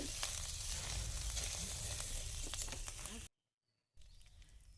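Ginger and cumin stirred in hot oil give a loud, steady sizzle and crackle close by, which cuts out abruptly into silence before resuming.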